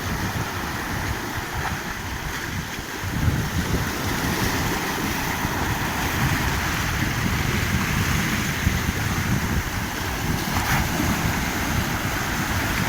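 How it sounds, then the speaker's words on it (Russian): Black Sea waves at Tuapse surge and break continuously against the shore in summer, a loud, steady wash of surf mixed with heavy wind buffeting the microphone, with no voices. "Черное море во всей своей красе."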